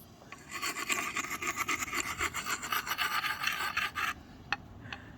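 Steel hatchet blade being sharpened outdoors in the Ontario bush: a run of close, rhythmic scraping file or stone strokes, then a pause and a couple of sharp isolated scrapes, with no voices.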